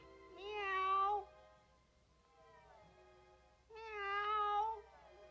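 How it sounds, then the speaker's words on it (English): A cat meows twice outdoors, two drawn-out wavering cries separated by a quiet pause, fairly faint and alone. "I hear the cat outside"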